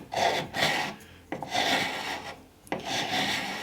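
A carbide scraper rasps thick paint off wood in three firm strokes, each a close, gritty scrape with brief pauses between.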